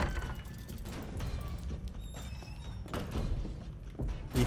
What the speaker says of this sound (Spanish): Y ahora me tengo que meter a esta puerta de acá.